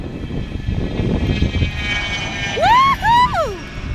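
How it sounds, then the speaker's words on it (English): A loud jet passes at Aurora Municipal Airport, its broad engine roar building and holding close, with excited shouts from nearby onlookers breaking out near the end. "a jet."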